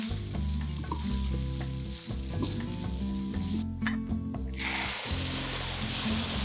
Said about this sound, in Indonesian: Dan goreng beras kejap dalam 2-3 minit.